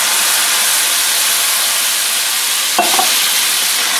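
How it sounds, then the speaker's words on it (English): A pan of seafood sauce with undrained Rotel sizzles in a steady loud hiss, and a brief spoon scrape of stirring comes near the end. "Give it a good mix."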